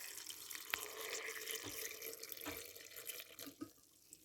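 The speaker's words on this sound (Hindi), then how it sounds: "अब इसमें मैं मिल्क डालूंगी।" Milk being poured over Oreo biscuits in a bowl, a soft steady liquid trickle with a few small splashes and drips, close and quiet, with no talking.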